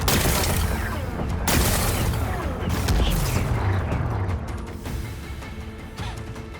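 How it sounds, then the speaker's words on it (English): Rocks being blasted apart by explosions in Horizon Forbidden West, loud booming bursts with crumbling, grinding rubble and mechanical clatter that slowly ease off, over busy game sound. "Gotta blast away some rocks, so I can expose the power cell."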